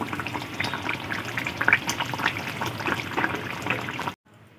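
A pot of Rui fish curry with potato, pointed gourd and bori simmers with a continuous close bubbling and gurgling that stops abruptly just before the end.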